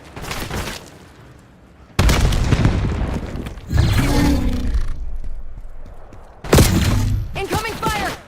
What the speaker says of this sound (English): Inbound grenade.